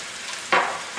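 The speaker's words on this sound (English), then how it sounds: "In a cup of preheated olive oil, add a half of large onion," Finely chopped half of a large onion hits preheated olive oil, and a sudden close sizzle bursts up midway through and holds briefly, with no talking.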